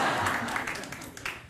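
Comedy-show audience applause fades from a steady wash of clapping to a thinner patter, with scattered claps lingering near the end.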